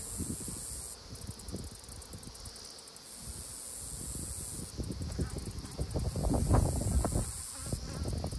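Wasps buzz around a beehive in a cow pasture apiary, their droning hum rising and falling close by. Low rustling and handling bumps sit underneath, and the buzzing grows busier toward the end.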